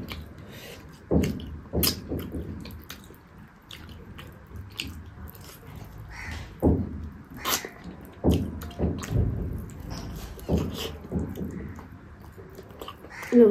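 A person eats egg paratha and palak at close range, with wet chewing, biting and squishy mouth sounds coming in irregular bursts throughout.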